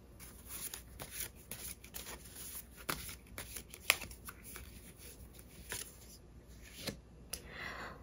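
Tarot cards shuffled close up and quietly, a steady run of soft riffling slaps and papery flicks with no voices.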